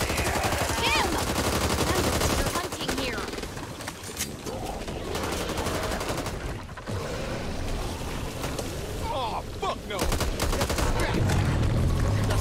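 Dense automatic gunfire in the video game Back 4 Blood, loud rapid bursts with brief lulls around the middle, mixed with game effects and occasional players talking.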